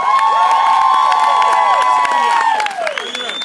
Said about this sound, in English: Please give a big round of applause to Terry McAuliffe.